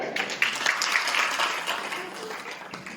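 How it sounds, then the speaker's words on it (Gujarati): Audience at a farmers' gathering clapping together, a brisk, full burst of many hands that swells early and gradually thins out over a few seconds. "સરસ, તાળી પડો"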